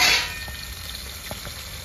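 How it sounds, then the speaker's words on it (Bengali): Pabda fish frying lightly in warm oil, a soft continuous sizzle with a few faint pops and crackles, fairly quiet and close. "হালকা করে ভেজে নেব"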